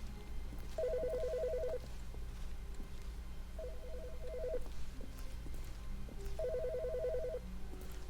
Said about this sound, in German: Welches Telefon?